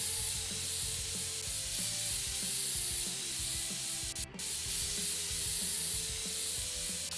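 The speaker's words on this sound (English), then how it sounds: "Okay, compressed air. Here we go." A can of compressed air sprays in PC Building Simulator as a continuous loud hiss over a low mechanical whir, broken by one brief gap.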